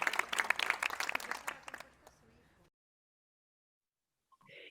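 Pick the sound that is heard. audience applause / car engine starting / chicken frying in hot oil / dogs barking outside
audience applause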